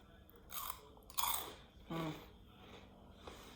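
Up close, a crunchy Korean rice-cracker-like snack with a light sweet frosting is bitten and chewed, giving a few distinct crisp crunches with short pauses between them in a quiet room.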